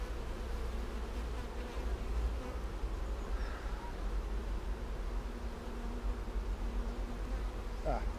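Honeybees swarm around an open hive during a honey harvest, a steady close buzz of many wings droning on without pause, with a few louder passes as individual bees fly near.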